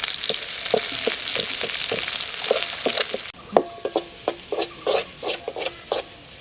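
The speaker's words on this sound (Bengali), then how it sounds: "এবার পেঁয়াজ কুচি দিয়ে দিচ্ছি" Chopped onion added to garlic frying in mustard oil in a wok for a duck curry: a steady sizzle broken by repeated scraping stirs, which get sharper and more spaced out in the second half.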